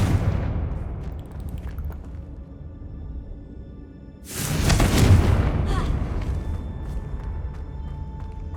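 Confringo fire-spell explosion in Hogwarts Legacy, a single loud booming blast midway that decays into a rumbling roar over quieter game ambience.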